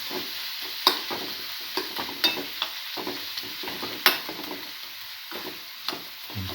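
Chili powder and salt being stirred into a pan of sizzling food, with scattered clinks and scrapes of a utensil over a steady frying hiss.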